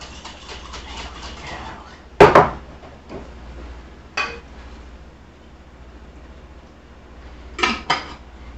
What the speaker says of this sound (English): Get this lid back on there.